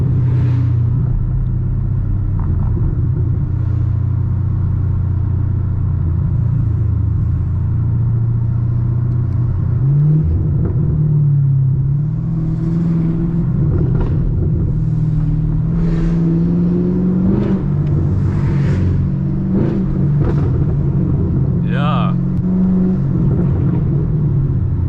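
A loud Camaro SS engine rumbles and revs continuously while driving at night, its deep growl rising and falling in pitch with acceleration, close and steady throughout.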